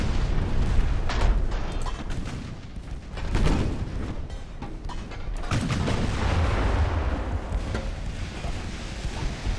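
Naval gunfire in Ultimate Admiral Dreadnoughts, with a steady roar of heavy booming salvos that keeps on through the whole stretch. Strong blasts stand out near the start, in the middle and later on, and there is no talking.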